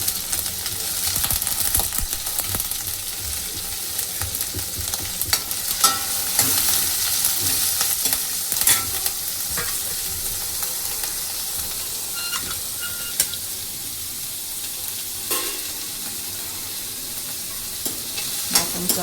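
Onion and curry leaves frying in a pan for a village-style dried shrimp and brinjal dish, with a steady loud sizzle and scattered stirring clatters throughout, no talking.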